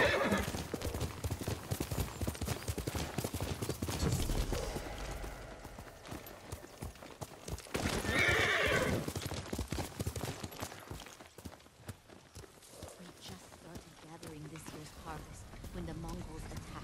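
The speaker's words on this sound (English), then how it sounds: "Good horse, Kage. Heel!" Rapid hoofbeats clip-clop under music and game effects in Ghost of Tsushima, with a horse neighing loudly midway; a voice speaks briefly.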